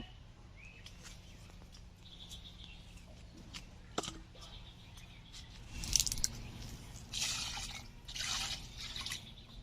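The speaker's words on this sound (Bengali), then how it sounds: "মাছগুলোকে আমি এখন ভালো করে ধুয়ে নেব।" Rohu fish pieces are rinsed in water: faint drips and trickles at first, then louder splashing and sloshing bursts near the end, quiet and close.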